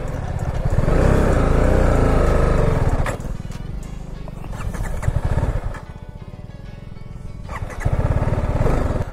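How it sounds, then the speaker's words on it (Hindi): A BMW G310 motorcycle stuck in mud on a rough Rajasthan track revs hard in repeated surges, loud bursts dropping to a lumpy idle between throttle blips. "अबे यार अपनी बाइक मिट्टी में फंस गई"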